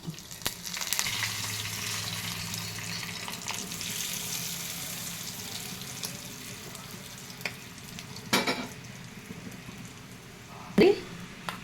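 Cumin, urad dal, dried red chilies and curry leaves frying in hot oil as a tempering, a steady crackling sizzle running throughout with a few sharper pops and clatters near the end.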